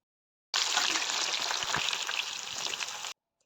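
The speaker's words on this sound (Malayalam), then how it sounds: "സവാള വറുത്ത് കോരി അതേ എണ്ണയിലേക്ക് തന്നെ നമുക്ക് വെണ്ടയ്ക്കയും ഇട്ട് കൊടുക്കാവുന്നതാണ്." Okra drops into hot oil already used for frying onions and sizzles loudly and steadily for about two and a half seconds, a close, crackling hiss that cuts off abruptly.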